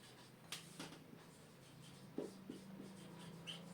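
Chalk or marker writing on a board in a classroom geometry lesson, faint scratchy strokes and light taps in short irregular bursts over a low steady hum.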